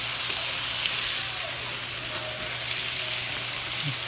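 Omelet frying in oil in a pan makes a dense, even sizzle with faint crackles, steady and close for the whole stretch, with no talking.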